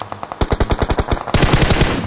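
Rapid, loud gunfire in a battle royale shooter, with an AWM sniper rifle in play: a dense string of close shots that jumps to an even heavier burst near the end, with no talking.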